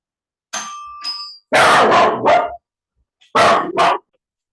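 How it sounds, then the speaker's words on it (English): A dachshund reacts to a delivery driver at the door with loud, close barks in short bursts, starting with a couple of high yips and then two strong volleys separated by silence. "Just had a relationship with a delivery driver at the door, and my sausage dog's response to that delivery"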